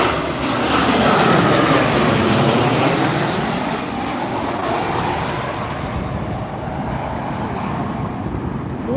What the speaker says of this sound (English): Take a look at these crosswind approaches and crosswind landings.